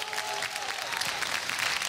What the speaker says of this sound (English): Round of applause, anybody, yeah?